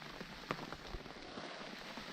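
Heavy rain falls outdoors on a hillside garden as a steady soft hiss, with a few sharper drips and taps standing out near the start.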